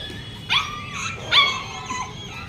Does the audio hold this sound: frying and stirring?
no